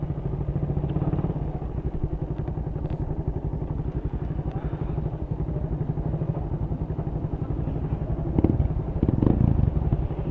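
A modified Kawasaki Barako 175 motorcycle roars loud and steady throughout, its dense engine pulse running close by with a brief surge of extra rumble and clatter near the end.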